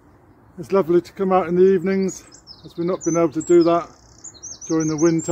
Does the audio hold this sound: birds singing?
yes